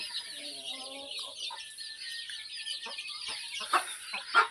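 Vatam-breed hens cluck softly over a steady background at a poultry farm in Bhimavaram, with a few sharper calls toward the end.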